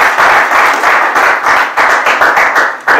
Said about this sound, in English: I want an applause.